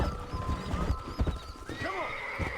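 A horse in the video game Red Dead Redemption gives a loud whinny near the end, over steady hoof clip-clops and a busy outdoor game ambience.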